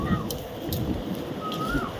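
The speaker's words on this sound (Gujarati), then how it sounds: "કાલ મસ્ત વાદળ થઈ ગયું છે ને એન્કર વરસાદ શરૂ થઈ ગયો છે અહીંયા" Rain falling during a cloudy spell at a farm field, a steady broadband hiss that continues for the whole stretch, with a few faint chirps riding on top.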